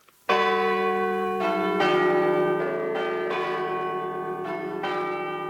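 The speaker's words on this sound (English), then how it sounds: "It's Bradford City Hall chimes." Bradford City Hall chimes in a Pennine Radio advert: a loud, close peal of bells striking successive notes in a melodic sequence, each ringing on with a long sustain and no voices.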